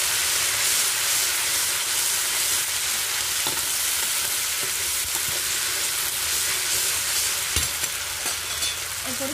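A paste of ginger, cumin and green chili hits hot oil in a pan, frying with a loud, continuous sizzle and a few stirring knocks, with no one talking.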